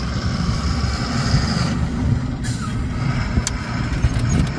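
An Ashok Leyland 14-wheeler truck on the road from Bijapur to Delhi, its engine giving a steady low rumble throughout, with a brief hiss like an air brake midway; no one speaks.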